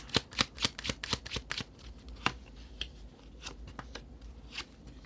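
Relationship tarot cards are shuffled by hand close up, giving sharp snapping card flicks in a quick rhythmic burst that thins into scattered softer taps and slides.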